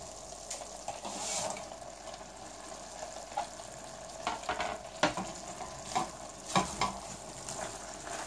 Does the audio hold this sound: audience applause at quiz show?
no